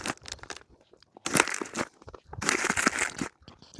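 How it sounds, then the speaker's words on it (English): Crunchy cheesecake bites snack eaten on a backpacking trip: loud, close bursts of crisp crunching come in two main clusters, with smaller crackly chews between them. "The cheesecake bites are really crunchy."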